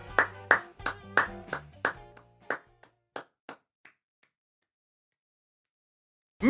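A short round of hand claps, about a dozen sharp claps in a quick, slowing rhythm that thins out into a few scattered claps and then silence, with one more clap at the very end.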